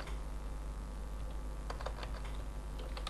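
Quiet typing on a computer keyboard with a few sharp key clicks, including presses of the enter key, over a faint steady background hum.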